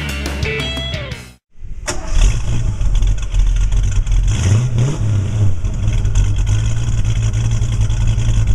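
1939 Ford Deluxe restored street rod: the engine cranks and catches after a brief pause, then idles with a steady, deep rumble and a short rev rising and falling midway, loud and close.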